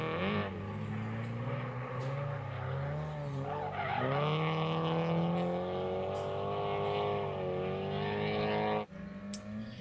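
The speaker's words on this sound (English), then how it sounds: "Sar spins, Sean drives past him." A drift car spins out with screeching, skidding tires at a Mineral Wells drifting event, its engine droning and wavering under a long, loud squeal that cuts off abruptly near the end.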